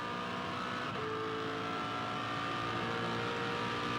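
A V8 Supercar accelerates hard on an onboard lap of the Darwin circuit, its engine a loud, steady roar that holds at high revs for the whole stretch without a break.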